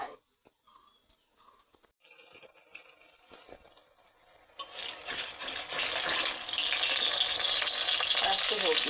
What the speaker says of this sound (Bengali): এই যে আমার বড়া ভাজা হয়ে গেছে